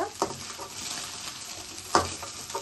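Steady sizzling of egg frying in oil in a pan for egg fried rice, with a couple of sharp scrapes of a utensil stirring against the metal.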